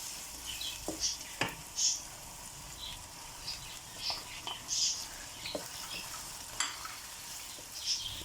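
Grated and quartered tomatoes fry with chicken for karahi in a pan, giving a faint low sizzle broken by soft clicks and scrapes of stirring at irregular intervals, fairly quiet and close.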